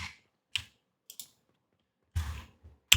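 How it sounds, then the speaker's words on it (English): Several separate computer keyboard key presses sound as crisp, close clicks and taps, spaced irregularly with silence between them and no voices. "So if you press V on your keyboard,"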